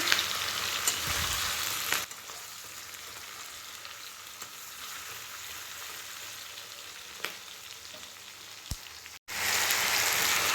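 Meat frying with large chunks of onion in a pan, a steady close sizzle and crackle running throughout with a few brief clatters, the sizzle swelling louder at the end; no one talks.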